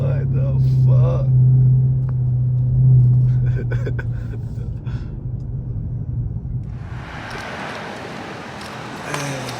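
A Dodge Hellcat's engine rumbles low and steady inside a tunnel, the deep drone echoing, then swelling into a broad roaring rush near the end, with someone talking over it.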